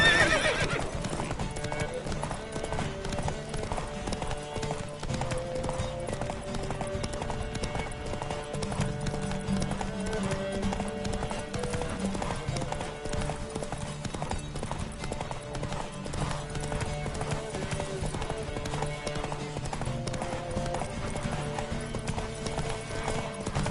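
Horse hooves pound in a fast, steady clip-clop through a race in The Witcher 3, with occasional whinnies and a constant game music bed underneath, loud and close throughout.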